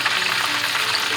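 Chicken lollipops frying in hot oil at moderate heat, a steady dense sizzle and crackle that runs unbroken and fairly loud throughout the short stretch, with no voices.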